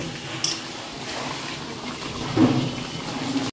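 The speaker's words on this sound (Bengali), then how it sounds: "এক্ষুনি এই জলটাই পড়বে।" Water poured into a cooking pot on a gas stove where meat is simmering, a soft continuous trickle and splash at close range with a brief stronger gush partway through.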